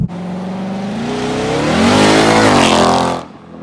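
A Whipple-supercharged 2018 Ford Mustang GT accelerates hard, its engine rising in a loud, close, continuous roar with climbing pitch and supercharger whine before cutting off abruptly.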